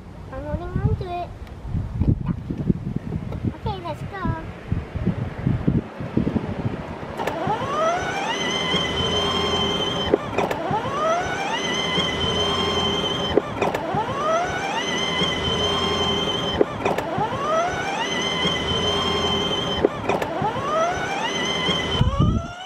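A Power Wheels BMW i8 ride-on toy car towing a full-size car whirs with a steady electric motor hum, loud and close, with repeating rising whines as it runs, and children talk over the start.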